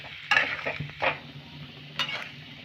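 Potatoes frying with cumin in a pan over medium heat, with a few stirring scrapes and soft bursts of sizzle over a low, steady background crackle.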